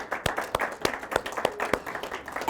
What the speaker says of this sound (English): conclude our event with a warm round of applause